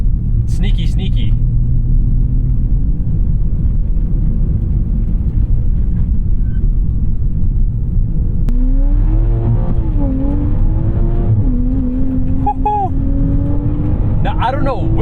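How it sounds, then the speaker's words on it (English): A track-prepped 2021 Toyota GR Supra engine drones loudly inside the cabin, revs rising and dipping through gear shifts under continuous rumble, with a voice talking over it. "You'll hear the revs come after the actual change to the needle."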